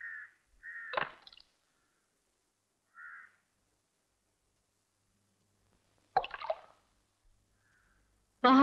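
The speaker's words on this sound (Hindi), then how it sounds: "क्या पानी में पत्थर फेंकने के लिए आप मुझे इतनी दूर लेकर आए हैं?" Stones drop into water one at a time, giving a few brief, irregular splashes spread apart by long quiet gaps, with faint high tonal calls in between.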